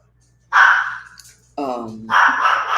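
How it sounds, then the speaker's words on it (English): A dog barking in a home, two loud, separate barks with a drawn-out yelping or whining call between them, close and alone without talk. "I'm babysitting a dog"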